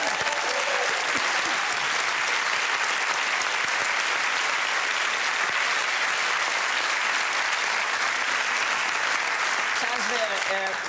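Studio audience at a festive comedy quiz show breaking into a long, sustained round of applause, a thick uniform roar of clapping that holds steady without fading, with brief voices near the end.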